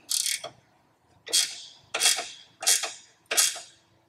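Bolts are fitted into a front bumper mount for an oversize load sign on a GMC truck, giving five short close scraping, ratcheting bursts at a steady pace with quiet gaps between.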